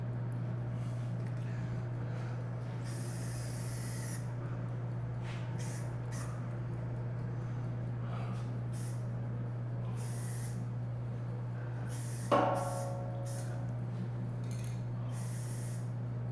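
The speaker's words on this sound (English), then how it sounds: "What I do is I spray the corners, and I'll go on the other side and I'll spray this corner." Short bursts from a paint spray gun as corners are coated, several hissing blasts of one to two seconds each with pauses between, over a steady low compressor hum, with a single sharp knock partway through.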